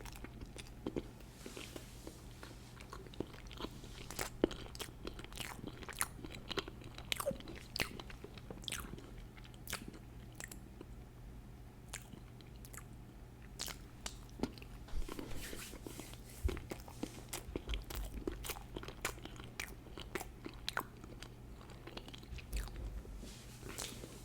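Close, crisp bites and wet chewing on a Twinkie snack cake, a sugary sponge cake with cream filling, repeating in irregular bursts across the clip with no talking.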